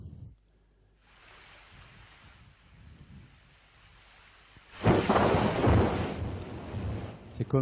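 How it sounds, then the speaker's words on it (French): A muffled underwater roar builds into a loud, dense hiss of rain with deep rumbling, steady and enveloping after a quieter start. "Le bruit d'un orage ou le bruit de la pluie."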